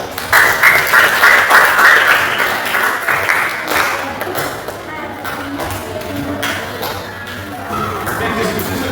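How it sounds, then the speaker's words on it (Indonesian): Classroom group applause after a discussion in a teaching practice session, loud scattered clapping that is strongest at the start and thins out over several seconds, with voices and a few knocks mixed in. "tepuk tangan semuanya"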